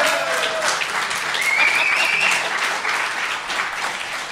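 A live comedy podcast audience applauds in a hall, steady clapping from a crowd that holds for several seconds while a voice talks over it.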